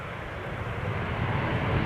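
A passenger airplane landing at Amsterdam Schiphol Airport, heard as a steady, fairly loud broadband jet engine roar that holds and swells slightly over two seconds, with no talking.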